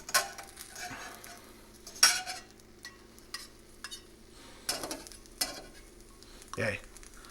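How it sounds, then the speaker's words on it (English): Onions going into a pan with bacon sizzle at a low, steady level, broken by sharp clinks and scrapes of a utensil against the pan, with a louder burst of stirring near the end. "Let's get those onions in there."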